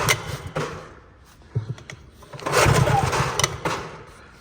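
A small engine with bad fuel and a carburetor needing cleaning cranks in short bursts that sputter and die, then churns longer without catching, loud and close.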